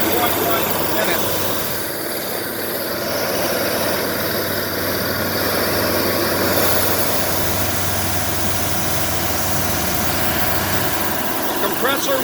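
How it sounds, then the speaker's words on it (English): A Nuvair Voyager IV commercial compressor with a low-pressure rotary screw runs with a continuous, loud, close mechanical hum and vibration, while a voice talks over it. "Compressor will turn off when it hits 3200."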